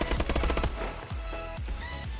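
MP11 submachine gun fire in a competitive Call of Duty match on PS4, with rapid automatic bursts up front, then a few scattered single shots and trailing echoes, loud and close.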